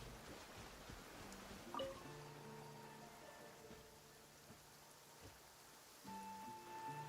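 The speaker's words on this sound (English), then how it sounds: "It's pouring out here!" Heavy rain falls in the Genshin Impact game world, a steady wash of drops with a faint musical tone underneath and a brief bright chime near the start.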